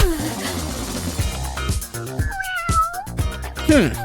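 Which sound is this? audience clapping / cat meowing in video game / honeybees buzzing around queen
cat meowing in video game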